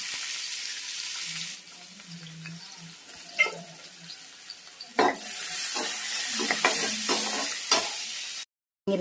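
Sliced onions fry in hot oil in a pan for a bitter gourd and egg stir-fry, a soft hiss broken by a few stirring scrapes, then a louder sizzle as cooking continues, ending in a brief cut.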